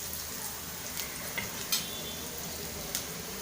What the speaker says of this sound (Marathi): आपली छान फोडणी तयार झालेली आहे।